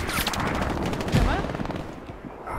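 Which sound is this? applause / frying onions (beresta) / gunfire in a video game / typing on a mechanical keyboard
gunfire in a video game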